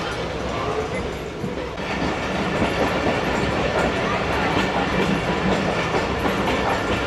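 The Karakoram Express pulling out of the Lahore Junction yard, a loud continuous rumble with rhythmic rail clatter that builds slightly as it gets moving.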